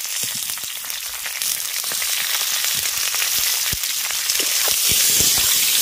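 Raw green tomato added to potatoes already frying in a pan gives a steady, dense sizzle with scattered pops and crackles that grows slightly louder over several seconds, with no voices.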